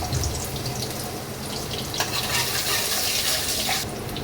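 Crushed garlic with asafoetida and nigella seeds hits hot oil for an egg curry, giving a dense, loud, continuous hiss and crackle up close, with no talking.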